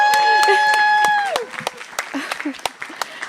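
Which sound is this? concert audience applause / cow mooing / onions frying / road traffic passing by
concert audience applause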